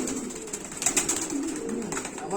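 Thai king pigeons coo in soft, repeated rumbling calls, close by, with a few brighter wing or movement sounds and faint background noise.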